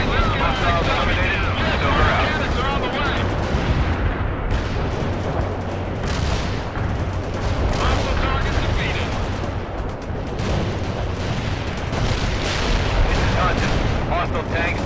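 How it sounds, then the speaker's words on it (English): An artillery barrage in the real-time strategy game World in Conflict rumbles on without letup, dense overlapping booms and gunfire forming a loud, continuous roar, with radio-style voices speaking over it. "Artillery barrage inbound."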